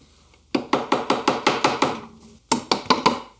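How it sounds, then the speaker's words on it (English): A wooden dovetail joint is tapped home with a mallet: seven sharp, evenly spaced knocks close by, a brief pause, then three more blows, with no talking. "I can tap that joint all the way home with a mallet and everything will fit okay"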